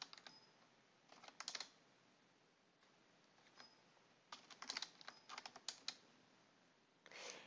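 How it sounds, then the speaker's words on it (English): Quick bursts of typing clatter on a computer keyboard in a quiet room, short clusters of close, light key taps with brief pauses between them. "I'll just quickly type in my ranges of interest."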